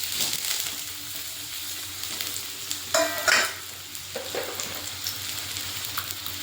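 Thin-sliced potatoes hitting hot oil in a pan, a steady soft sizzle with a couple of sharper crackling bursts near the middle, alone with no talk.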